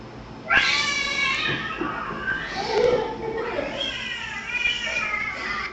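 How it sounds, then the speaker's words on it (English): A cat gives a few loud, drawn-out, angry-sounding meows and yowls close by, with irregular pauses between the calls. "Why do cats always like make it sound like they're so mad?"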